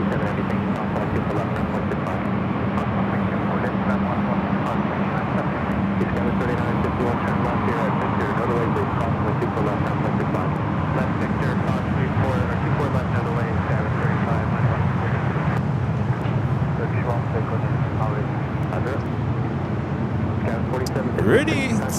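A Delta Boeing 737-800, 24 years old and in SkyTeam livery, takes off at LAX, its jet engines a steady, loud broadband roar that holds for the whole stretch without a break.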